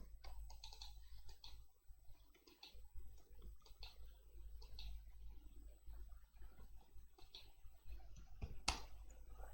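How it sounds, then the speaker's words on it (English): Keys clatter on a computer keyboard while a network device command is entered, a run of quiet, irregular clicks over a low constant hum, with one sharper tap near the end. "I'm typing this command."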